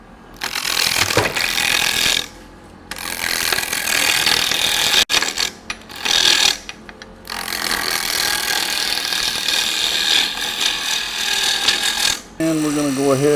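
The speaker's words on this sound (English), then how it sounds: "here we're just roughing this piece of wood down" Wood being roughed down on a lathe: a loud, close, rattling scrape of the gouge against the spinning blank, broken by short pauses, with a voice talking over parts of it.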